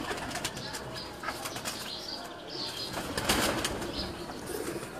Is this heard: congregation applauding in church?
no